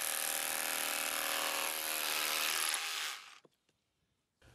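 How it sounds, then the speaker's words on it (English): A Makita BHR243 cordless rotary hammer in chisel mode chipping away: a loud, dense, rapid hammering rattle held for about three seconds, then cut off abruptly, leaving near silence with a couple of faint clicks. "select the chisel mode, and then holding the tool firmly in both hands, apply enough pressure to stop the tool bouncing around"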